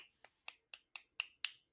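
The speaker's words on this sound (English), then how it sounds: "that's my thank you snaps" Six crisp finger snaps at a steady, quick rhythm, close and fairly quiet against near silence, given as a thank you.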